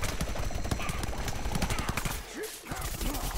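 Gunfire in a shooter video game: rapid, dense bursts of shots fired back to back, loud and continuous, with a short lull near the end before the firing resumes.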